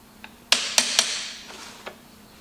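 A piston is tapped into a John Deere engine cylinder: three sharp metallic knocks in quick succession, then a lighter tap, close by with a faint ringing decay and no talking.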